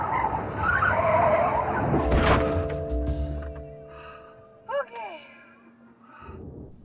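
A car spins and skids off the road, with a harsh scraping skid up close, then tonal squeals and a gasp-like cry before things quiet down. Voices are heard through parts of it.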